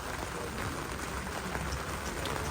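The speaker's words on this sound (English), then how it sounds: "it started raining just after we returned our kayaks" Steady rain falls outdoors in Dinant, Belgium, after a kayaking trip, making a dense, even hiss of drops on surfaces that continues unbroken throughout.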